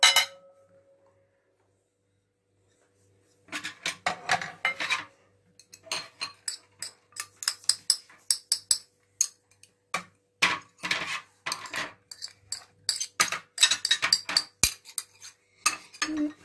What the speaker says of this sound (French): Maintenant, on doit mélanger les ingrédients.